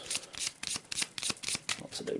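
Brisk riffling of cards in quick bursts, with a faint voice murmuring underneath.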